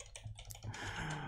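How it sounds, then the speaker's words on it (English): Rapid typing on a computer keyboard while building a game's UI layout in code, a quiet run of close, irregular key clicks that thickens into a denser, continuous clatter. "That's a lot of typing."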